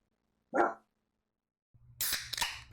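A pet dog barks twice close by: one sharp bark, a pause of about a second, then a louder rougher burst of barking that runs to the end.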